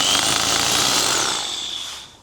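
An SDS hammer drill bores into a wall while a water trough is being finished on a sheep farm, a loud continuous grinding whine that holds steady and then tapers off, with no talk.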